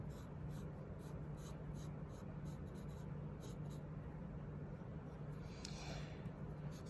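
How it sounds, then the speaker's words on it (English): Pencil sketching a large heart shape on paper, a soft continuous scratching of graphite strokes close to the microphone, steady and quiet with a faint hum underneath. "So I'm gonna do a nice big heart shape kind of in the center of my piece of paper."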